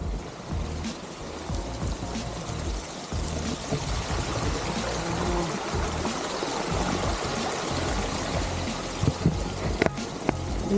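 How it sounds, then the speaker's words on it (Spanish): A river flowing behind a house in Kansas City, Missouri, gives a steady, close rushing and gurgling wash of water that runs unbroken throughout, with a few sharp ticks near the end and no talk. "Bueno, por ahí sigue el río, ¿verdad?"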